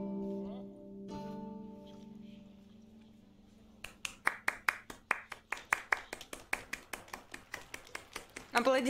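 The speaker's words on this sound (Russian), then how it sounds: "Аплодисменты." Audience clapping in the video game The Witcher 3: Wild Hunt, a run of sharp, evenly spaced claps that builds over the last five seconds after a stretch of quieter tones.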